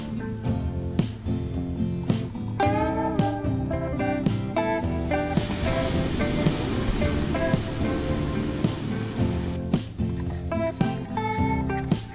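Ocean waves wash onto a shore at sunrise at a moto campsite, a steady rushing surf that swells in the middle, with music and faint voices layered over it.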